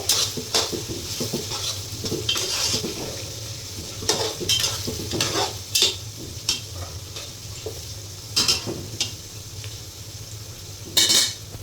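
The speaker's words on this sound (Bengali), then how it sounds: "প্রায় 15-16টা তেজপাতা দিলাম। এগুলো একটু নেড়ে দিব।" About fifteen bay leaves fry in a pot for a home-style beef bhuna, crackling under a steady sizzle while a spoon stirs, scraping and clinking against the metal in irregular bursts.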